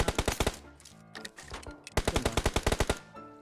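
Video-game M4 rifle fire in a battle royale match: rapid full-auto bursts, a short one, a brief pause with scattered shots, then a longer sustained string, loud and close with no talk.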